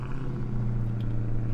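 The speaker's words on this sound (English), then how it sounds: "Let's hear the engine one more time." A car engine in a Roblox video game rumbles with a steady low, throbbing drone, close and continuous, with no talking.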